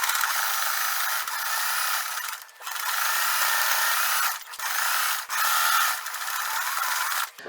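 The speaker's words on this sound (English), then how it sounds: "I'm going to just stitch on top of the line that's already on the pocket." Domestic sewing machine running steadily as it stitches along the existing seam line of a shirt pocket, a continuous mechanical whir broken by a few short pauses, close and alone.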